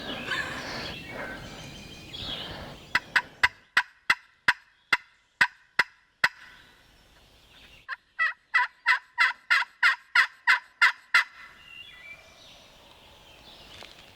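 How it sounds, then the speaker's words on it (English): Wild turkey gobbling in West Virginia woods during a hunt: two rapid bursts of gobbles, a run of about eight sharp notes followed by a louder run of about ten, fairly distant and carrying clearly over quiet background. "See if he'll gobble on his own again."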